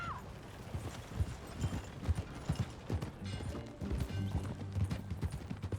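Hooves of a horse in the video game Red Dead Redemption 2 clip-clop at a steady walking rhythm, with some faint mechanical clicks behind them.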